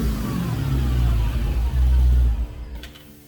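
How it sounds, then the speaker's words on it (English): A Dodge Challenger Hellcat fitted with a JTL cold air intake revs loudly in short bursts, its engine surging for a few seconds before dropping away. "time to fire up and hear some revs"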